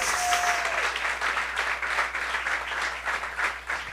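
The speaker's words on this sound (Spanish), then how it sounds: "A ver, todos alabando al Señor con esas palmas." A church congregation claps together in praise during a Sunday service, dense sustained applause from a crowd in a large room, briefly topped by a faint tone at the start.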